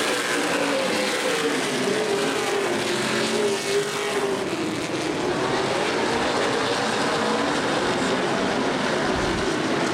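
Race cars of the CRA Super Series roar around the oval at Anderson Speedway during green-flag racing in the Seal Wrap Redbud 300, a dense, continuous engine drone that swells and fades slightly as cars pass.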